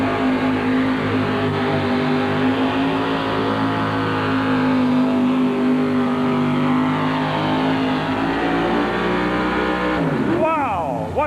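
A tractor engine roars loud and continuous during a truck and tractor pull at the 1985 National Farm Machinery Show, holding a heavy, droning pitch before shifting near the end as an announcer talks over it.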